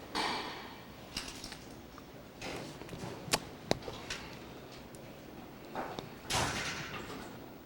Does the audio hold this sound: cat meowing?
no